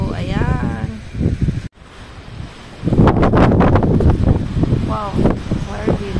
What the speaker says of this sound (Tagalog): Kami lumabas today because it's very windy.